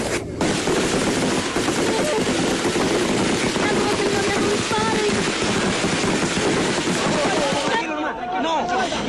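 Gunfire breaks out during a violent clash between police and Amazonian natives in the Bagua jungle, a dense, chaotic burst of loud shots and crackling over engine-like rumble, with voices shouting in the mix.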